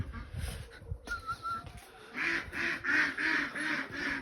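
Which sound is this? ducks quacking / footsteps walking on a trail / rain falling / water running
ducks quacking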